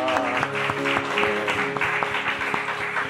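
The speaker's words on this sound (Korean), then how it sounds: "우리 하나님께 감사의 박수 올려드리겠습니다." Church congregation clapping together after a closing prayer at a Sunday service, steady applause with some music or tonal hum beneath.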